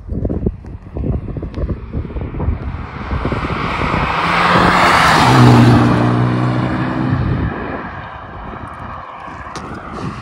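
A Renault Megane 3 RS with 250 hp and a stainless steel tube silencer roars past outdoors in cold, windy weather. The exhaust note swells to a loud peak midway, then fades, with wind buffeting the microphone.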